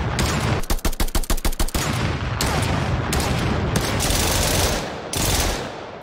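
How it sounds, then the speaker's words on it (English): Weapons fire in a UE4 remake of Black Ops Zombies: a fast, loud burst of about eight evenly spaced shots, then heavier sustained gunfire and booming blasts that carry on to the end, with no talking. "now we should be able to hear the guns when we fire them."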